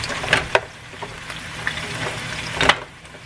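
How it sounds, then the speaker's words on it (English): Salmon pan-searing in a hot pan, giving a soft continuous sizzle and hiss with a few sharper crackles and stirring clinks, fairly close and without speech. "The fish is still cooking up over here."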